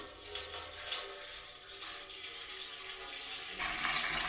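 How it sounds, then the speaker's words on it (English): Cold water that soaked acorns is poured off, a continuous splashing and trickling stream that swells louder near the end, with no talk over it. "So I'm dumping off some more cold water that's been soaking for a while."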